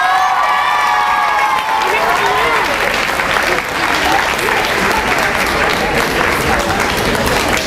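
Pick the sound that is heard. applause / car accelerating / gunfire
applause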